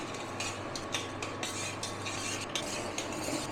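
A spoon stirs rose water into thin sugar syrup for gulab jamun, giving a quick run of soft scraping and clinking strokes against the pan, close and steady.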